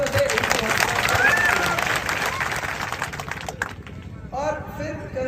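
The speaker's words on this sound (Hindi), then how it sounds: "एक बार जोरदार तालियों से" Audience applause at a tournament gathering in Sikri, a steady dense wash of clapping and crowd noise that thins toward the end, with voices rising near the close.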